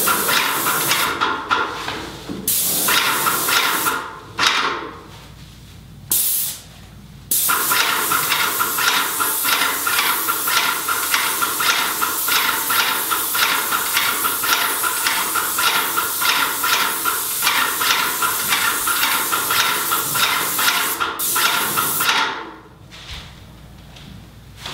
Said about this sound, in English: here's our standard setup right here with our airless sprayer set up right here, and we typically run it at full pressure